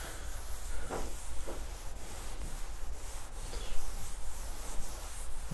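Hand sanding scrubs across car body sheet metal during prep for a home respray, a close, steady rasping rub in repeated back-and-forth strokes with a few sharper scratches, no talking.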